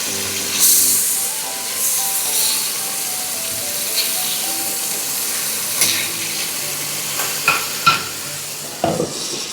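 A beef burger patty sizzles in a pan over low heat as it is pressed down, a steady frying hiss with scraping and occasional clicks, fairly close.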